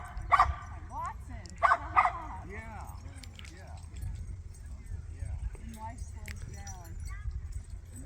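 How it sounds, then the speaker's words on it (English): Dogs yip and bark in short bursts early on at an outdoor spot, then quieter sounds follow, all under a low steady rumble, and a voice speaks nearby. "Look at all the doggos."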